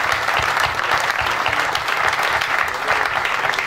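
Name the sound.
audience applause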